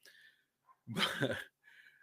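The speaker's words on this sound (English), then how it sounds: "my dog's barking back" A dog barks once, a short loud burst in the middle, with faint breathy sounds before and after in an otherwise quiet room during a live recording.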